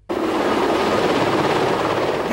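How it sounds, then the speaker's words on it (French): Helicopters flying over Paris on a morning of a transport strike, a loud, steady rotor roar that starts abruptly and holds constant, close and alone. "Paris a eu droit ce matin à un véritable balai d'hélicoptères."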